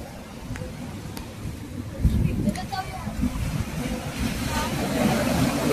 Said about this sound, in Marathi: बघू शकता समुद्र किती खवळलेला आहे